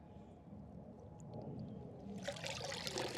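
Water seeping up from below through bonsai soil and pumice in a tub, a soft steady trickle and bubbling that grows brighter and fizzier toward the end, close by with no talk.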